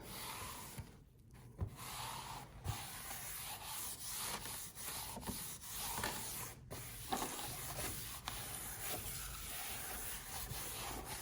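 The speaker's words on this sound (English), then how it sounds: "Okay, so you're just gonna scrub and wipe down your area." Steady scrubbing and wiping of a clay work area with a sponge, continuous rough rubbing strokes at close range with occasional small knocks; no talking.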